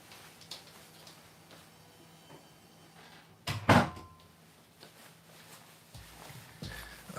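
A door shut indoors near a laundry machine room, one solid thud with a brief rattle, moderately loud over a quiet hum and faint household ticking.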